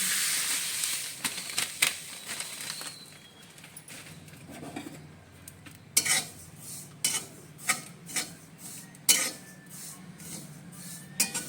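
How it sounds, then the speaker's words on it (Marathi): Poppy seeds dry roasting in a pan for a traditional Maharashtrian masala chutney, a steady dry rasping rustle broken by sharp scraping strokes of stirring at irregular intervals, close and with no talk. "आता मी खसखस भाजून घेते"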